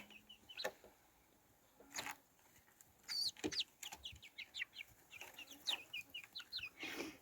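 Chickens and a grey young rooster cluck softly in a coop, a string of short, fairly faint calls that quicken into a rapid series near the end, with no talk.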